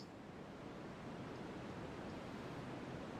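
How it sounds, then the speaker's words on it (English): A steady, even hiss of broadband noise fills the space without change or pause. "Now, that's white noise in the background. It's quite loud."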